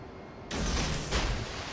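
Torpedoes fired from a destroyer in a naval combat video game: a sudden loud launch burst of broadband noise, followed by a second surge, with no talk over it.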